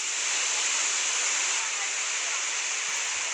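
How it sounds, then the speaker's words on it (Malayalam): Urakkuzhi waterfall near Kakkayam dam in Kozhikode plunges into a deep rocky gorge, a continuous dense roar of falling water, loud and unbroken throughout. "വെള്ളച്ചാട്ടം അഗാധമായ പാറയിടുക്കിലേക്ക് പതിക്കുന്നത്"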